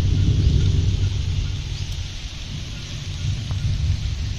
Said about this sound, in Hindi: ये देखो बारिश ऐसे हो रही है और बादल भी गड़गड़ गड़गड़ कर रही